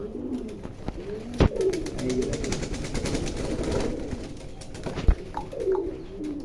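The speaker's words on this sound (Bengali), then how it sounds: "এতটা চঞ্চল এই কবুতরটা দেখতেই পাচ্ছেন" Pigeons at a fancy pigeon farm coo in a continuous, rolling chorus close by, with a few sharp knocks and faint wing sounds.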